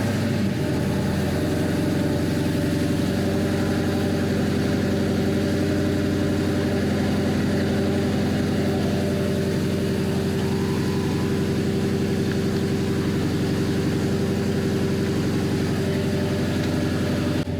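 Jaguar car engine idling steadily after starting, a smooth constant low hum with a faint higher whine, close and unbroken with no talk.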